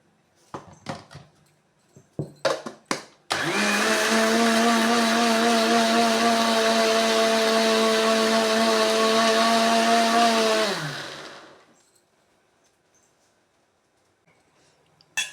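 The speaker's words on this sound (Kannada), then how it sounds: "ಹಾಗೆ ಕಾಯಿ ತುರಿಯನ್ನು ಗ್ರೈಂಡ್ ಮಾಡ್ಕೊತಾ ಇದ್ದೇನೆ" A kitchen mixer grinder runs loudly for about seven seconds, grinding grated coconut with water, after a few sharp clatters, then winds down and stops, leaving near silence.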